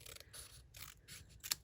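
Scissors make a few quick snipping cuts through a stamped paper card, crisp and close, with small scraping and clicking sounds between cuts and no talking.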